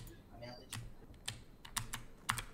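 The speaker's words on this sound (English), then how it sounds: "Do you hear my keyboard?" Computer keyboard typing while someone plays Among Us on a live stream: a handful of sharp, close key clicks in an uneven rhythm over low background hum, with a voice faintly in the background.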